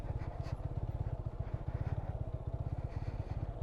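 A motorcycle without ABS rides off-road near Kanakapura, its engine close and loud with a fast, steady pulsing throb that holds throughout.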